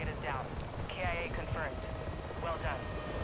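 A video game helicopter whirs as a steady rotor drone through the whole stretch, with excited players talking over it.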